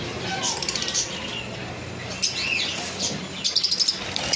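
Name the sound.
conure birds chirping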